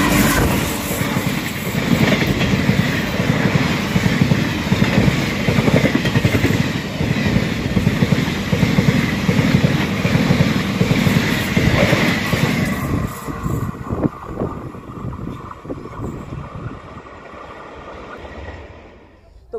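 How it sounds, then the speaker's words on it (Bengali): A train rolls past at a railfan picnic gathering in Bangladesh, a loud, steady rumble with wheel clatter filling most of the stretch before fading away as the last cars pass. "তো চলো ক্যাপচার করি লাস্ট ট্রেনটা"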